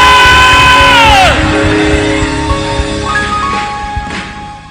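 A church congregation at a Ghanaian prophetic service screams and shouts together in a loud, sustained roar that continues beneath a fading musical tone, with scattered whoops rising out of the crowd.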